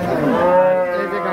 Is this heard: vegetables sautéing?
no